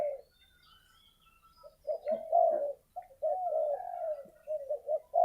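A dove coos in soft, repeated phrases, fairly close, with short pauses between calls and a quiet background.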